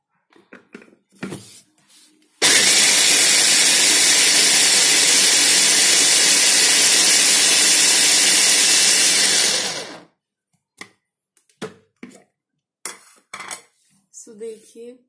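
A Glen GL 4043 mini chopper whirs loudly and steadily for about seven seconds while chopping onion and green chilli, with brief clicks and handling noises before and after.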